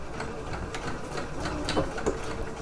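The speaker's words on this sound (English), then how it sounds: "just using a straight stitch for my woven fabric." A sewing machine runs a straight stitch through woven fabric for dress pockets, a close, steady mechanical whir with small rhythmic knocks of the needle and no speech.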